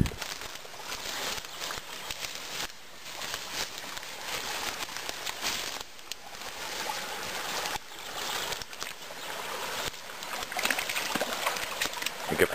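A shallow stream flows over stones in a small creek, a continuous broadband rushing and trickling with slight swells, steady and close, with no voices.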